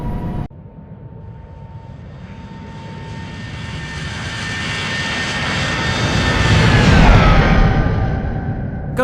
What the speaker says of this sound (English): the external flyby looks amazing. It sounds really good.